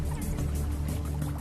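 An impala plunges into a river to escape a pack of wild dogs, a short burst of splashing and churning water heard close and fairly loud.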